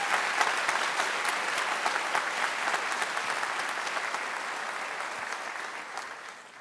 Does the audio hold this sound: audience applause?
yes